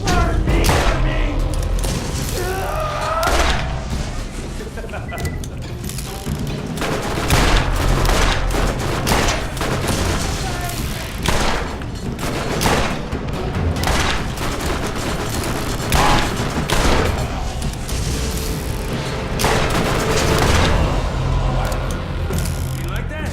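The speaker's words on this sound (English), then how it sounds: "That's an SMG, and that's a machine pistol. Someone back there has a machine pistol of some sort." SMG and machine pistol fire from the Borderlands video game rattles in rapid bursts over a steady rumble of battle noise, dense and loud throughout, with someone talking over it.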